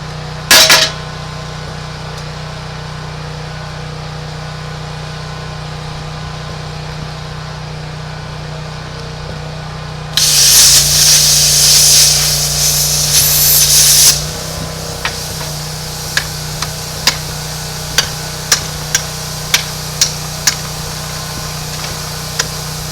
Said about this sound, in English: I got to cut around the spot welds to be able to get this thing off of here.